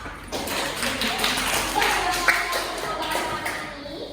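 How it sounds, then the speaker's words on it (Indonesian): A small group claps in a quick, scattered patter that keeps going for several seconds, with a few sharper taps standing out. "Tepuk tangan untuk kita semua."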